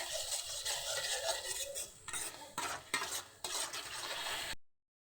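Spice paste sautéed with a little water in a pan for a potato and egg curry, a moist, hissing scrape of stirring with brief utensil knocks, fairly close, then sudden silence at the end.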